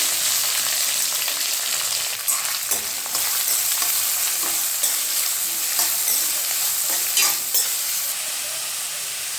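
Onion frying in hot oil with mustard seeds, cumin, curry leaves and whole green chillies for a mango fish curry, a loud continuous crackling sizzle with intermittent stirring scrapes and pops, close up, no speech.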